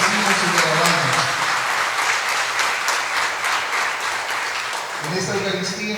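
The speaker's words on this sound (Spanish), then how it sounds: "Vamos a dar un fuerte aplauso a Jesús." A congregation at a healing and deliverance Mass bursts into loud, sustained applause, a dense wash of clapping from a large crowd that swells and then eases slightly, with voices mixed in.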